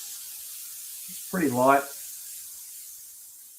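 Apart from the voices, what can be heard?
airbrush spraying paint onto canvas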